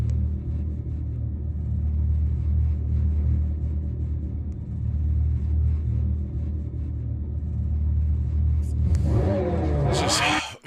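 A deep, steady synthetic engine rumble from an electric sports car's fake engine sound drones for several seconds, ending with a brief rising rev burst near the close.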